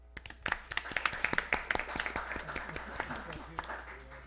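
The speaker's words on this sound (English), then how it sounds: "would like the audience to join me in a round of applause for their efforts in transparency" A small audience at a water district board meeting applauds, scattered sparse hand claps close to the microphone, fairly quiet and thinning out over a few seconds, with a faint voice underneath.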